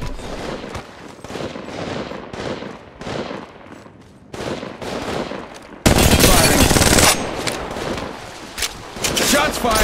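Automatic gunfire from Apex Legends rattles in fast bursts, growing loud and dense partway through, while a player talks over it.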